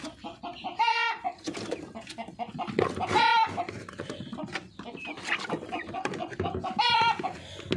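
Chickens around a rooster cluck and squawk in repeated loud bursts over a busy, close farmyard murmur, with no clear talking.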